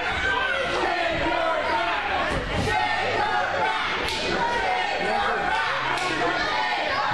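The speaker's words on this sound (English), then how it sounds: "And you hear the fans reacting as Dozer takes off his shirt." Crowd at an RWA Christmas Chaos 2011 wrestling show reacts as a wrestler peels off his shirt, a loud, continuous swell of shouts, whoops and chatter with a few thuds underneath.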